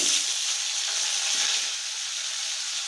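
Potatoes fry in oil left from cooking snakehead fish, giving a loud, even, continuous sizzle up close with no other sounds.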